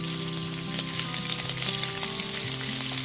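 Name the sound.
chopped onion frying with garlic in pan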